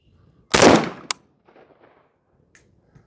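A rifle firing 5.56 ammunition outdoors gives one loud, sharp report that decays over half a second, followed by a short metallic click and, about 1.5 seconds later, a faint tinkle of the ejected casing landing.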